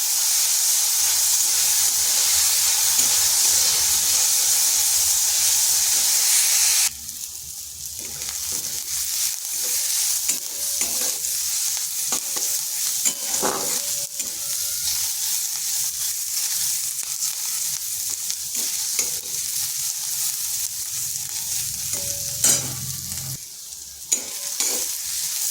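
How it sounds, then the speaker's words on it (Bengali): Ingredients for a pui shak (Malabar spinach) fry sizzle lightly in a pan. A loud, bright hiss fills the first seconds, then settles into a softer crackle, with occasional stirring scrapes. "এগুলোকে হালকা একটু ভেজে নিচ্ছি।"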